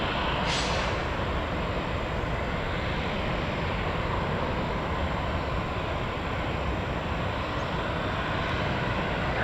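A Piaggio P.180 Avanti turboprop on the runway gives a loud, continuous rumbling roar heard close up, steady throughout with a brief hiss near the start.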